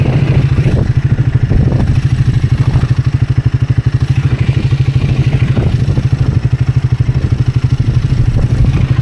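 A motorcycle engine running steadily while riding down the California coast, a loud, rapid, even low throb with clattering mechanical texture throughout, no talk.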